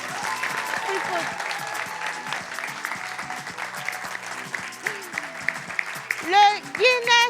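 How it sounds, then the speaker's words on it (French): A live audience at a Togolese talk-show event applauds with a crackle of clapping while a presenter speaks over it, and the voices grow louder toward the end. "on va applaudir free food"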